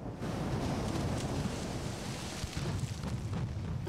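Warship gunfire in the naval game Ultimate Admiral: Dreadnoughts comes through as a continuous low, rumbling roar of distant booms with no voices.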